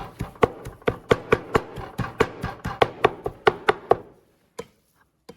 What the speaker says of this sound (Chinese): 然后我们再用刀给它剁碎。